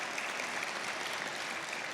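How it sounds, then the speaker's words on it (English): A youth conference audience claps in a steady, even round of applause, fairly faint and distant throughout. "let's give a round of applause to everyone who helped put this conference on today"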